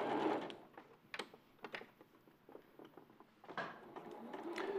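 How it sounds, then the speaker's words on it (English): A sewing machine stitching a seam with a few stitches and pivots, heard as short, close bursts of mechanical whirring and clicking separated by brief pauses. "A few stitches and pivots is the easiest way to do it."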